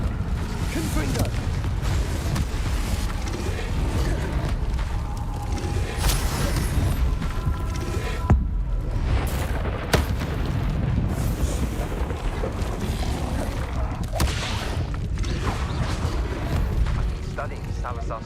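Confringo fire-spell blasts in the Hogwarts Legacy video game, booming bursts repeated over a dense, continuous wash of game effects and background noise, with scattered speech running under the action.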